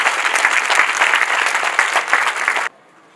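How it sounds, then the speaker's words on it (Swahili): A large crowd breaks into loud, dense applause for Dr. Samia Suluhu at a tree-planting event in Morogoro, a sustained roar of clapping that cuts off abruptly near the end. "Naomba kwa pamoja tumpigie makofi mengi sana Dr."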